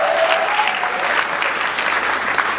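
A church congregation claps and applauds together, loud, dense and sustained throughout, with voices of the crowd mixed faintly beneath the steady clapping.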